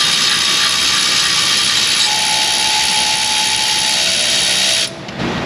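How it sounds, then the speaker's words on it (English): A Milwaukee 3/8 extended electric ratchet loosens brake caliper bolts with a loud, continuous mechanical whir and buzz at close range. It holds steady for about five seconds, then cuts off abruptly. "It's up to you, little Milwaukee 3/8 extended ratchet."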